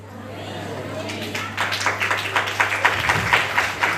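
Audience applause from a crowd at a Hindi talk or lecture: scattered claps build into dense, steady clapping, with a low hum and some murmuring underneath.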